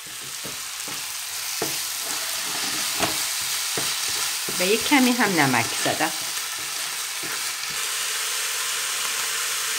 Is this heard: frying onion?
yes